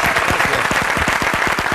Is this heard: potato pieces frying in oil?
no